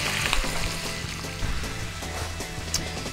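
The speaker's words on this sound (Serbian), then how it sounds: "Zagrijati puter u tiganju i na njemu pržiti slaninu dok ne postane hrskava" Bacon frying in butter in a pan, a dense, steady sizzle and crackle close up with small pops and a faint clink of a utensil, no talking.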